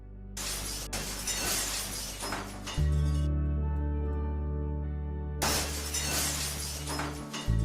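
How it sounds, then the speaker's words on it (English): A loud glass-shattering sound effect plays as two separate bursts of crashing, breaking glass, with a steady low hum sustained in the gap between them. "Glass shattering sound effect."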